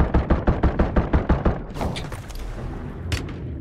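Rapid bursts of gunfire from the Call of Duty Warzone video game ring out close and loud, a quick string of shots followed by a quieter stretch and one more sharp burst.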